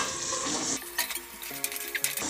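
Peas are stirred in a pan on a gas stove, a loud steady sizzle first, then scraping and light clinks of the spoon against the pan as the hiss drops away.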